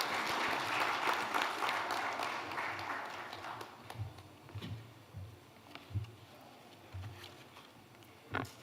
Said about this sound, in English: May we appreciate her with a round of applause as she takes the podium.